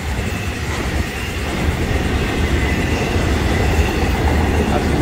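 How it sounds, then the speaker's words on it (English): Florida East Coast Railway freight train rolling past with locomotives, a steady close rumble of wheels and rail noise with faint clickety-clack, building slightly in loudness throughout. "Alright, we got another locomotive on there now."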